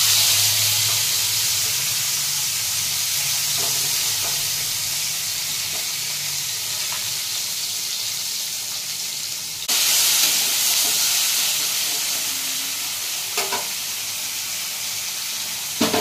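Chopped onion and green chili go into hot oil after tempering, giving a loud, steady, broad hiss of sizzling close by that holds nearly unchanged throughout, with faint clinks and no talk.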